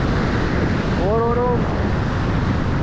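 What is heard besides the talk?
sea waves breaking on a beach in Turkey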